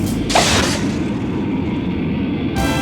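Cartoon rocket launch effect from a 1996 animated superhero show: a sudden loud blast bursts out, then a steady roaring rumble carries on for several seconds before a second surge near the end, with no voices.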